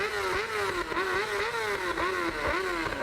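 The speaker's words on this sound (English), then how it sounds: "I'm right next to a motorbike right there" Motorbike engine revving close by at a Black Lives Matter march on O Street in Lincoln, Nebraska, 2020, repeatedly rising and falling in pitch over a rough idle, loud and alone.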